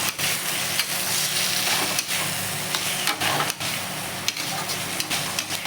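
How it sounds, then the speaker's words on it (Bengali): Potatoes are stir-fried in a prawn curry masala with a splash of water in a pan, giving a steady sizzle broken by repeated scraping and clattering strokes of a spatula, close and moderately loud. "আলুটা দিয়ে ভালো করে কষিয়ে নেব"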